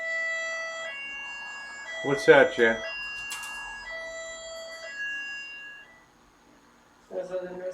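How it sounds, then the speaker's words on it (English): New outdoor warning sirens sound as sustained, steady tones with a slow pitch change, moderately loud and somewhat distant, while people talk over them and a brief voice follows near the end. "Those are the new sirens."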